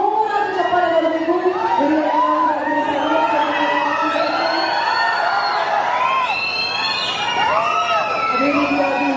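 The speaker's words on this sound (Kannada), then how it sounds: "ದಯವಿಟ್ಟು ಜೋರಾದ ಚಪ್ಪಾಳೆ ಬರಬೇಕು." A crowd at a Kannada film event whoops and shouts in a loud, sustained roar of overlapping high voices, cheering continuously for the whole stretch without a clear break.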